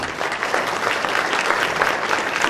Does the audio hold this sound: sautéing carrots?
no